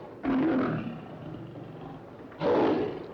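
A caged lion in an old film lets out two loud, close roars, one at the start and another near the end, with a low rumbling growl between them.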